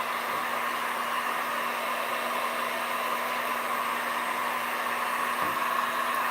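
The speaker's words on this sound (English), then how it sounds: "now I'm going to use my heat gun. Make sure it's very dry." A heat gun blows hot air in a steady, loud, unbroken whoosh with an even hum, running alone with no talk throughout.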